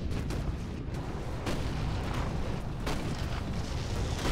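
An Uber tank rolls and fires in the Toy Soldiers video game, with a continuous heavy rumble broken by a few booming shots and bursts, all fairly loud and close.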